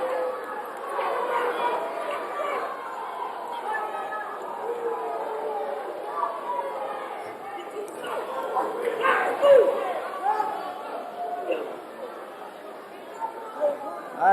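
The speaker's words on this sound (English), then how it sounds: "You're hearing the Hyde Park crowd now" Crowd at a 1999 Hyde Park amateur boxing tournament, a steady murmur of chatter and scattered shouts rising and falling throughout, with a louder swell near the middle.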